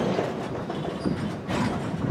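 Freight cars of CSX train Q410, led by locomotive 5426, grind and rumble near at hand as the train comes to rest, with steady low rolling noise and a brief louder swell of wheel and car clatter.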